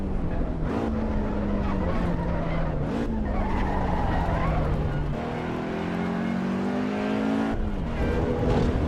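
A race car in a racing video game laps the Nürburgring Nordschleife on the 24-hour layout, its engine droning loudly and steadily, with gear changes shifting the pitch and tires squealing through the corners.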